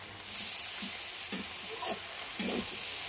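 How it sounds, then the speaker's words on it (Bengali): Sliced eggplant fries in a pan with onion, tomato and green chilli, a soft hissing sizzle with a few scattered stirring scrapes, brief and quiet. "সব কিছুর সঙ্গে বেগুনটাকেও খুব ভালো করে কষিয়ে নিতে হবে"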